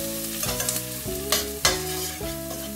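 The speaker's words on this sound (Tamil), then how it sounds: "நல்ல வடிவாக வெங்காயம் பொரிஞ்சு அவியட்டும்." Onions fry and sizzle in a pan while being stirred, with scraping spoon strokes over a steady sizzle, close and moderately loud, no talking.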